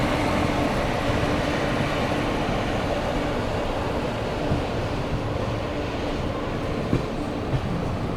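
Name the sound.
Gitanjali Superfast Express train departing Akola Junction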